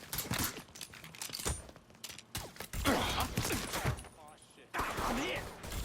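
A Mafia 3 shootout, with gunfire crackling in rapid bursts amid chaotic action sounds and shouted voices, loud and busy throughout with little pause.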